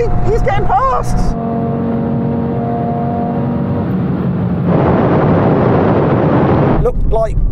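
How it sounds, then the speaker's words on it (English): An Audi hot hatch accelerates hard in a drag race, a loud close engine roar climbing through the gears with a shift and a surge of broadband rush, while excited voices talk over it. "Oh, look at the Audi go."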